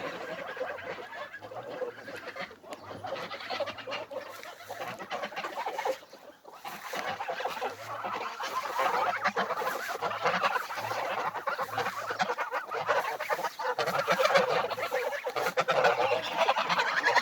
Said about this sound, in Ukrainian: Ну і гуси пасуться.